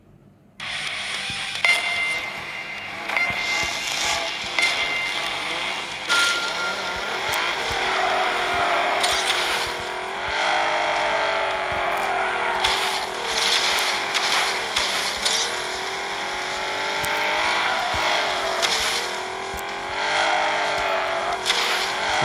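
A Bugatti LVN in the racing game Asphalt drives with a steady, loud engine roar whose pitch sweeps up and down through shifts, with occasional clangs and dings and no talking.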